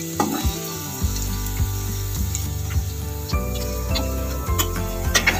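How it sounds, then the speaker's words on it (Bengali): Elephant foot yam pieces sizzle steadily in hot oil, a continuous close frying hiss broken by repeated low knocks and scrapes as the pieces are turned, with no talking. "ওর পিঠটাও আমি হালকা করে ভেজে নেবো ওলগুলো"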